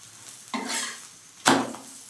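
Aloo paratha frying in a pan and being flipped, with two distinct bursts of sizzle and scraping, the second louder and sharper, over a low background hiss.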